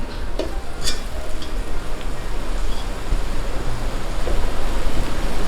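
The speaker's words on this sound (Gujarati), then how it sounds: "હવે આ બટાકાને આપણે મિક્સ કરી દઈએ" Boiled potatoes being stirred with chili in a pan for dum aloo, a soft scraping and sizzling shuffle close by, steady with a few faint clinks and no talking.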